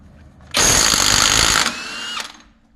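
Impact wrench spinning off a 36 mm axle nut on a Jeep Grand Cherokee during ball joint and wheel bearing work: a single loud, close burst of rattling hammering lasting about a second and a half, trailing into a shorter whir as the nut frees.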